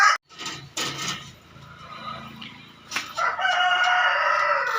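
A rooster crows loudly and close by, its call rising and holding steady, with some clattering and rustling noises at the start.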